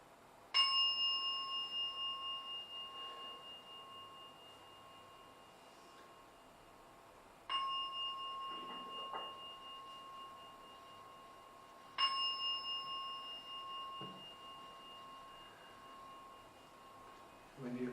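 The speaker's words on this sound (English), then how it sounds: "And now I'm going to ring the gong 3 times." A meditation gong is struck three times at a meditation group, each clear metallic strike ringing out and slowly decaying before the next, with faint room sounds in between.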